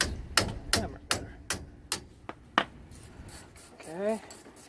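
Sharp metallic hammer strikes on front brake parts of a Ford F150 Harley Davidson supercharged truck land about eight times in an uneven rhythm, close and loud, followed by a short voice.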